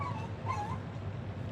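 A pet dog whimpers in a home as its owner returns, making thin, high-pitched whines that rise and fall in a couple of brief cries, close and fairly soft, with no talking.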